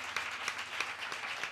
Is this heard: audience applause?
yes